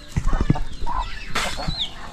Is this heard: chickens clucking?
yes